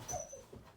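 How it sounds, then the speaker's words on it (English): Excited dogs give short whimpers and yips close by, a brief burst of eager canine sounds after someone arrives at the door. "My dogs are getting excited because somebody's come to the door"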